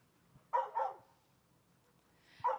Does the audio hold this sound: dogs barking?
yes